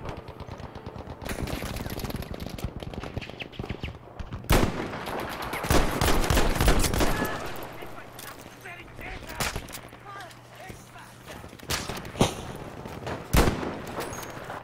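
Battlefield 5 video game gunfire, with a submachine gun firing in rapid bursts and sharp single shots scattered across the stretch, loud and dense, with talk over it.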